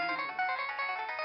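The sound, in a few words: phone ringtone ringing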